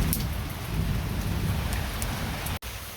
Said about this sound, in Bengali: আজকে ঠান্ডা দিন তো বৃষ্টি নামছে আর বৃষ্টির দেওয়ায় খালি গুড়গুড়ে গুড়গুড়ে ডাক পালেছে